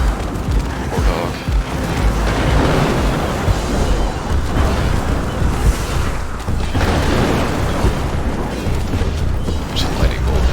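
Lightning bolt spell explosions in the video game Soulstone Survivors make a dense, continuous wall of booming blasts and crackling bursts that stay loud throughout, with no talk over them.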